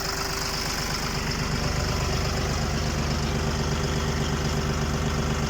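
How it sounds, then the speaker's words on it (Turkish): A John Deere 55 tractor's diesel engine idles steadily at low throttle, running a PTO-driven generator, with a low, throbbing rumble, loud and close, running evenly throughout without any voices. "Traktörümüz 9 gazda çalışıyor arkadaşlar."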